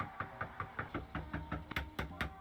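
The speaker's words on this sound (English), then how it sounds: "he and his friend would continuously knock on their door" Repeated knocking on a house door, a steady series of sharp raps in regular groups, fairly close and clear, with no voices heard.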